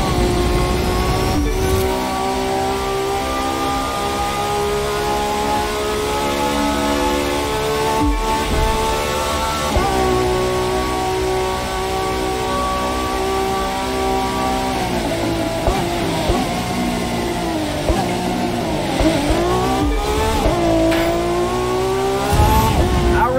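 Hypercars race along the final stretch toward a downtown Miami finish line in The Crew 2, their engines holding a loud, continuous roar of layered, shifting tones that rise and fall as they rev through the whole run.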